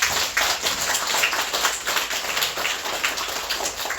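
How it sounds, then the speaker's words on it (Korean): A church congregation at a Friday prayer meeting applauds in a dense, sustained patter of many hands clapping, loud and even throughout with no voices over it. "오늘 이 자리를 허락해 주신 하나님께 먼저 영광의 박수 한번 드리겠습니다"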